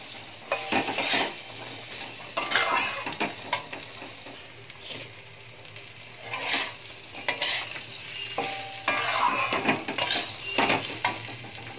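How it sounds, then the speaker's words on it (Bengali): Mung dal with vegetables and spices being stirred and mixed in a pot: irregular bursts of scraping and clinking from a spoon against metal over a faint sizzle, rising and falling in loudness across the stretch. "এবার ডালের সাথে দেখো সবজিগুলো ভালো মতো আর মশলাটা মিশিয়ে নিচ্ছি"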